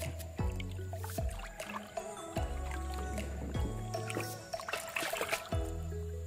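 Liquid eco-farming solution being stirred in a planting hole at an oil palm plantation: continuous wet squishing and sloshing with repeated splashy strokes, close and moderately loud.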